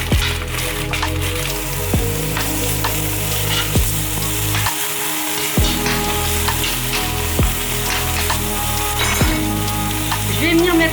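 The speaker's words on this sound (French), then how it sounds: "Quand l'huile a commencé un petit peu à prendre, donc je vais mettre mes petits oignons." Small onions frying in hot oil in a pan, a loud steady sizzle close by with occasional sharp crackles and stirring scrapes throughout.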